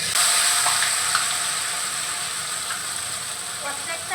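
Batter-coated pieces fry in hot oil in a wok with a steady, bright, hissing sizzle that fills the whole stretch at an even, fairly loud level.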